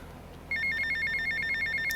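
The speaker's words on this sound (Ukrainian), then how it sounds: "Ось нам ще й телефон дзвонить." A telephone rings with a steady electronic trill in the GTA Vice City video game, starting abruptly and continuing loud and clear with no talk.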